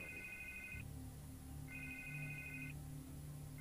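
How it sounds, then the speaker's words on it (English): An electronic telephone ringtone in Batman: The Telltale Series rings in two clear bursts with a third starting, each a bright warbling trill over a low ambient hum, no talk. "I can't get the phone to stop ringing."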